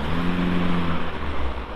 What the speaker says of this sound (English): you can hear a stupid car